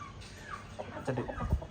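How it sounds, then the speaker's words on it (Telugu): An Aseel rooster gives a few short clucking calls near the end, over a faint steady background hum. "మంచి సంక్రాంతికి పట్టాగా యూజ్ చేస్తున్న కోడి అండి"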